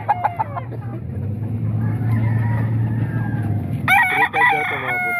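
A rooster crows loudly and close at a Saturday chicken market in Baliwag, with a long drawn-out call near the end over low background rumble and a few clucks at the start.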